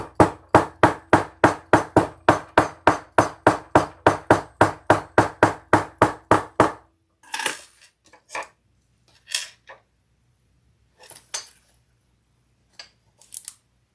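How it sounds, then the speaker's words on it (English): A hammer taps leather in a steady, rapid series of about twenty even, close blows, then stops, followed by a few scattered, fainter handling knocks and clicks. "I'm going to have to use my hammer"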